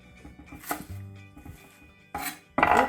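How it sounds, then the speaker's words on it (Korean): Knife chopping young radish stems on a board while making kimchi, a few scattered cuts followed by two louder bursts of rapid chopping near the end, close and clear with no talk. "줄기 부분은 이렇게 썰어주시면 돼요."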